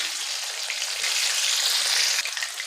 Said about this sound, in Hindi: मीडियम आंच पे हम इसको फ्राई कर लेंगे।